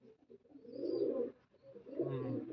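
Pigeons coo close by in their nest holes in soft, throaty, rolling calls, two drawn-out phrases with a short pause between them.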